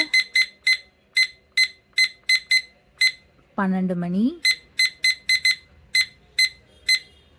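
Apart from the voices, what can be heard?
phone alarm ringing from a study timer app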